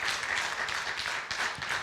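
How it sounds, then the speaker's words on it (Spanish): A church congregation applauds during a service, a dense, steady wash of many hands clapping that fills the room evenly and continuously, fairly loud, with no clear speech over it. "Denle ese aplauso al Señor"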